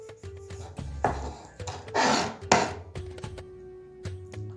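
A knife slices through tomatoes on a board at close range, giving several short crisp cuts and scraping strokes with quiet pauses between them.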